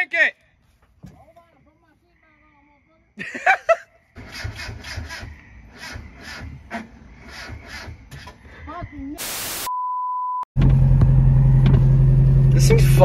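A turbocharged Mazda Miata cranking over with repeated starter churns, then a loud steady idle near the end, among rattles, an electronic tone and brief talking from people nearby.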